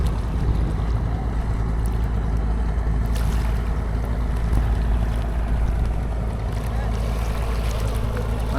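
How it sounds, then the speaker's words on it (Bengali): River waves wash steadily against the bank at Mainot Ghat, a dense, constant rushing roar mixed with wind buffeting the microphone, loud and unbroken throughout. "আর ঢেউটা ভালোই লাগতেছে দেখেন।"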